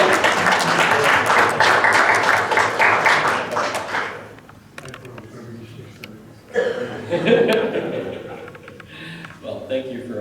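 A small audience at a Romeoville meeting claps for Charlie Smith as he enters the room, a burst of moderate clapping that fades after about four seconds, then scattered chuckles and light taps amid murmuring.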